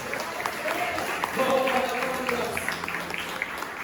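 A church congregation applauds in a dense wash of clapping, with a voice speaking over the middle of it.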